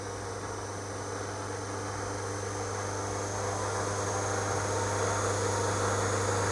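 A motor-driven generator hums steadily with a strong low mains-like drone and broadband whine, slowly rising in level as it runs up toward about 2000 RPM under no load; no voice is heard.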